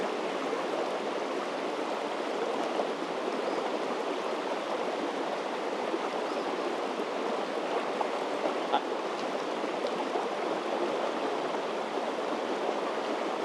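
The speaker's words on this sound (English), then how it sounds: "KoKo and I made our way down to the Gale River." The Gale River in New Hampshire's White Mountains runs without a break, a broad even wash of flowing current close by.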